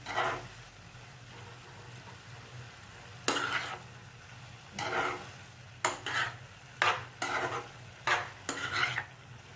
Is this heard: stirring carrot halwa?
yes